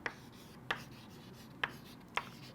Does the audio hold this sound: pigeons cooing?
no